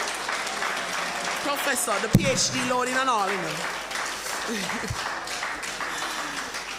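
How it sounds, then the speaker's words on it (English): Applause from a lecture audience runs underneath as a steady wash of clapping while people talk clearly over it. "I want to give Dr. Hope a round of applause again"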